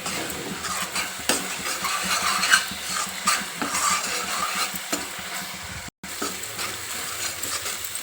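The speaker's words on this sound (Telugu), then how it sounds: "నూనె మొత్తం మిడిస్తుంది కదా మంచిగా" Oil sizzles steadily in a pan with chili powder for egg omelette curry, a constant crackling hiss with occasional stirring scrapes and a brief cut near the end.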